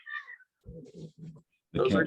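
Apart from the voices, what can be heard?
cats meowing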